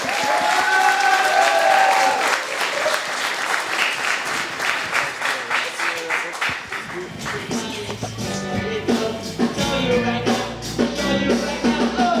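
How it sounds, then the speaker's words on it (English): Sustained audience applause at a youth band camp concert, dense steady clapping for several seconds that thins toward the end as instruments begin to sound underneath. "So big round of applause before you begin"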